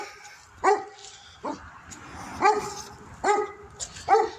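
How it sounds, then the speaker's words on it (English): A dog barks repeatedly, about five or six sharp barks spaced irregularly, fairly close and loud, with no talking. "There's Brian, the dog that likes to bark all day."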